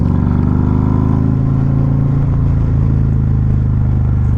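Harley-Davidson Street Glide CVO motorcycle engine, a loud, close, steady low rumble with deep throbbing pulses and slight rises in revs, continuous throughout with no voices.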